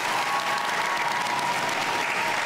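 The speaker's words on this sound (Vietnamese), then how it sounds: "Xin mời quý vị hãy dành một tràng pháo tay để chúc mừng cho đêm chung kết Quý Ông Hoàn Hảo 2018." A studio audience at the 2018 final of the Vietnamese TV pageant Quý Ông Hoàn Hảo applauds in a dense, steady wash of clapping that stays loud and even from start to finish, with no voices standing out.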